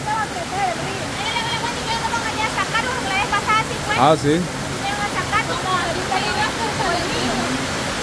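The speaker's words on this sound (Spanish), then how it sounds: "ella está vaciando la piscina, ¿ves?" Water drains from a swimming pool during a heavy storm, a constant rushing gush like a small waterfall, close and loud, while people talk over it throughout.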